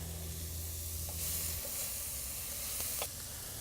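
Vegetables sweating in a pot with a steady close sizzle, briefly stirred, with a low hum fading early and a couple of soft knocks of the spoon.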